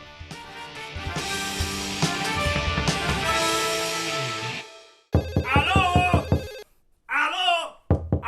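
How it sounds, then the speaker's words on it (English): A telephone rings loudly in a dense electronic burst, then two shorter separated ring bursts follow after brief silences, with no talk over them. "I'm trying to answer the phone."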